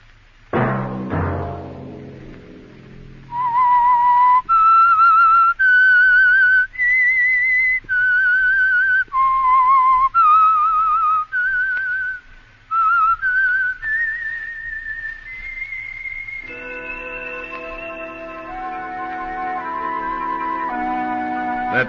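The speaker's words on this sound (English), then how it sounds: "Let that whistle be your signal for the Signal Oil program, The Whistler" A whistled theme melody from The Whistler radio program rings out clearly, a run of sustained pure notes stepping up and down after a brief opening chord, ending in soft orchestral accompaniment.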